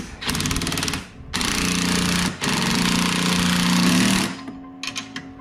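A power impact tool rattles in three loud hammering bursts, close up, separated by brief pauses, as bolts are tightened on a Big League striper kit fitted to a Toro Timemaster mower, followed by a few faint clicks.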